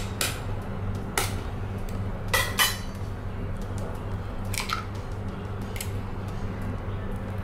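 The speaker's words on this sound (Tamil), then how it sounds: "அடுத்து அதில் இந்த ஒரு முட்டையையும் உடச்சி போட்டுக்கலாம்" An egg is cracked against a bowl and dropped into a sweet pumpkin mixture, giving a few sharp clinks and taps over a steady low hum, with no talking.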